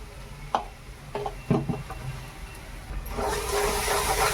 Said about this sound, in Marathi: आता मस्तपैकी फ्राय करून घेत मसाला पूर्ण